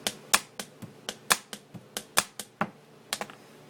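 A pen tapped on a desk plays a drum-style snare and double-bass beat: about fourteen sharp, close clicks and knocks in a steady rhythm, with no other sound.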